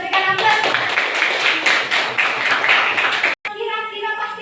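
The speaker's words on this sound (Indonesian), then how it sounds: "Kita berikan aplaus." A classroom of students clapping together in steady, dense applause that carries on for a few seconds, then cuts out briefly before resuming.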